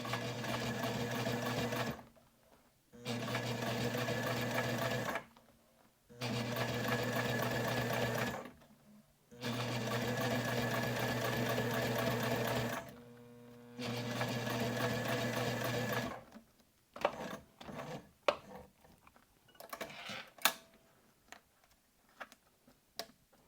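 A sewing machine stitches a wallet in several steady bursts of rapid mechanical whirring, separated by short pauses for pivoting, then gives a few scattered clicks and handling noises near the end.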